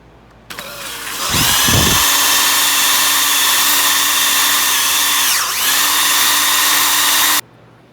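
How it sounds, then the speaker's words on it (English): A power drill fitted with a sanding disc spins up and polishes a gouged spindle part, running loud and steady for several seconds with a brief dip in pitch as it bears down, then cuts off. "So I got this sanding disc on the drill."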